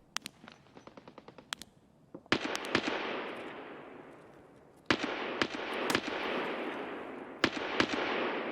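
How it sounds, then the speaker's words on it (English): Automatic gunfire from a scav in Escape From Tarkov, fired from outside a building: a rapid burst of sharp shots followed by several loud single reports, each trailing into a long echoing decay. "the scav is shooting at us from outside"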